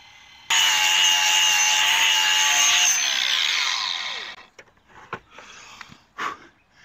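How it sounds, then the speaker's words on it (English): A power sander works on a steel box section held in a vise in a garage workshop, giving a loud, steady, bright whirring buzz for about four seconds that winds down, followed by a few faint knocks. "it's going to be perfect for holding the box section while I sand it."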